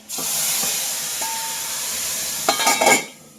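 Garlic sizzles in hot oil with a steady crackling hiss, followed near the end by a few louder clatters and stirring sounds before it quietens.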